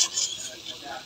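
Potatoes being sautéed in a pan for a curry, a short burst of sizzling with light utensil scraping against the pan, close and moderately quiet.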